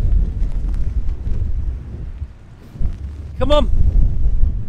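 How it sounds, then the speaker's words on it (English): Strong wind in Scotland buffets the microphone with a steady low roar that dips briefly midway and then surges back, while a person calls out over it. "This wind is atrocious."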